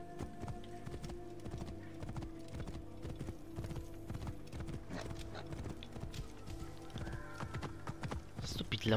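Horse hooves clip-clop in steady rhythm through the whole stretch in Assassin's Creed Origins, with a brief neigh, set over a busy game soundscape and low music.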